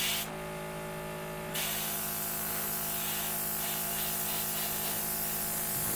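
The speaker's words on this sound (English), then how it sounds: "this is laying down a lovely spray pattern" A paint spray gun hisses steadily and loudly over a constant motor drone while spraying models, briefly cutting out near the start before resuming evenly.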